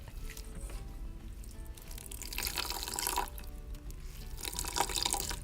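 Water is poured onto grated coconut and the wet mass is squeezed by hand to make coconut milk, giving close, steady splashing and trickling with louder sloshing surges and no talk.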